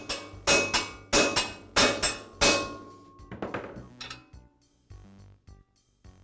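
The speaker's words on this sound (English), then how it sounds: "I'm going to use a socket with a diameter that's about the same as the inner race and a shop hammer. And I'll just tap the bearing onto the shaft" A shop hammer taps a socket to drive a bearing onto the blade shaft of an MK Diamond tile saw, giving five sharp, evenly spaced metallic clinks with ringing decay, followed by several quicker, lighter taps close up.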